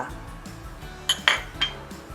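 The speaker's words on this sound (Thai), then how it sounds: "คนส่วนผสมให้เข้ากันเลยค่ะ" Salad ingredients for grilled pork neck nam tok being stirred in a bowl with sliced green onion, culantro and shallots, giving a few close clinks of utensil against the dish over soft background hum.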